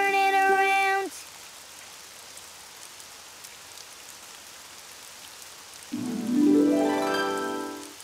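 Rain falling outside makes a soft, steady hiss that runs through the whole stretch, framed by brief tonal, sung-sounding passages at the start and again near the end.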